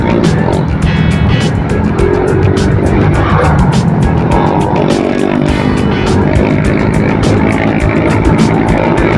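A motorcycle with a loud open aftermarket exhaust revs hard, its engine roaring steadily and close throughout, with no pauses, against traffic and road noise.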